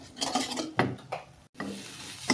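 Macaroni topping simmering in a pan over low heat, stirred with a spoon: soft scraping strokes and clinks repeating over a faint bubbling sizzle, close and moderately loud.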